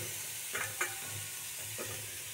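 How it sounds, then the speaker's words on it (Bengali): Grated carrot sizzles in ghee in a pan, a soft continuous hiss broken by a few brief stirring scrapes, close and fairly quiet with no voices. "এরপর আমি গ্রেড করা গাজরটা এখানে দিয়ে দিচ্ছি।"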